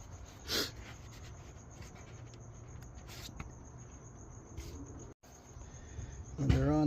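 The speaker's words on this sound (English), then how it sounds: "When they're on, they should make a little clicking noise that lets you know they're locked in." On a 2.5-litre Volkswagen Passat or Jetta engine, electrical connectors snap into place with a few faint, sharp clicks spaced seconds apart over a quiet background hum.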